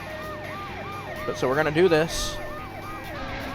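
A wailing ambulance siren from the RE:DRIVER 2 video game cycles steadily for several seconds, with someone talking over the middle of it.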